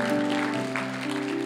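A church congregation claps together during a Sunday service, a dense burst of applause that fills the short moment, with a sustained organ or keyboard chord underneath.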